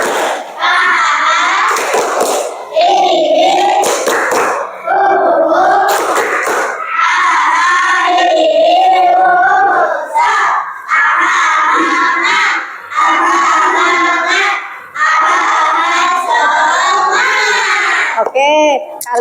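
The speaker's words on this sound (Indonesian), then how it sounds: "Tepuk semangat." Indonesian schoolchildren in a classroom perform a rhythmic spirit-clap routine together, bursts of loud group clapping alternating with shouted chanting in a steady pattern that fills most of the clip.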